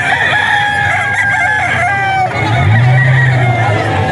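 A ten-month-old stag rooster crows loudly and close by at a busy pet market in Bocaue, one full cock-a-doodle-doo over a background of crowd chatter.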